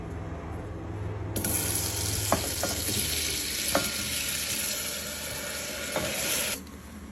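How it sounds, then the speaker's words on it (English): Chopped tomatoes, onion, green chili, ginger and garlic dropped into melted butter erupt into a loud, close, steady sizzle lasting several seconds, with a few utensil clinks, then ease off; no talking. "3 big chopped tomatoes, 1 onion, 1 green chili, 3 pieces of ginger, 6-7 pieces of garlic. Add it in your butter."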